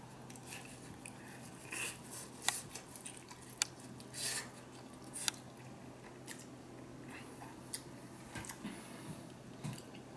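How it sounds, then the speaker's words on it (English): Biting and chewing a crunchy slice of homemade Neapolitan pizza topped with dry-cured pepperoni: several sharp crunchy bites followed by soft, close chewing, with no talking. "I'll go ahead and take this slice and give it a taste"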